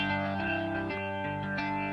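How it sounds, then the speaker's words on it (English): Yamaha YC stage keyboard playing organ chords through a rotary speaker effect with transistor preamp distortion, giving sustained tones with a lightly gritty, pulsing swirl that shifts with each chord change. "So it has a little bit of distortion in there"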